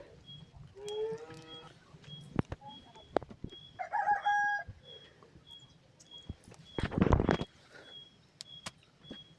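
A rooster crows and a chicken clucks nearby, with a repeating faint electronic beep and a brief loud rustle partway through.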